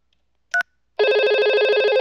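A Cisco IP phone rings on an incoming call placed from an analog phone, a brief electronic chirp followed by a steady, loud multi-tone trilling ring that continues without pause, no voices present.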